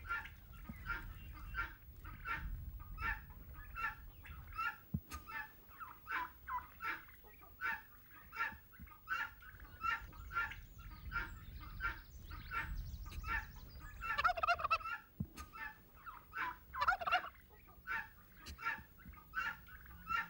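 A turkey on a farm gobbles over and over in short, regular bursts during a courtship display, fairly distant and soft against a low background rumble.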